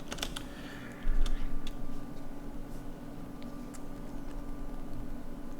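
Light, scattered clicking of computer keys in a quiet room, a few quick taps spaced irregularly with a steady low hum underneath.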